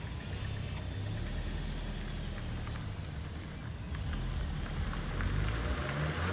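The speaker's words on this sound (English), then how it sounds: "Of the car revving off. It is very loud. It's got some pops and bangs there" A VW Golf GTI's engine runs loud and steady throughout, with a deep continuous drone and faint crackling hints that may be exhaust pops, swelling slightly louder toward the end.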